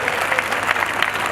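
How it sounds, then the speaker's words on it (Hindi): Brief, dense clapping from an audience at a Constitution Day ceremony, a continuous wash of applause without pauses. "ऐसे दिलेर लोगों के लिए आप लोगों को जोरदार ताली बजानी चाहिए"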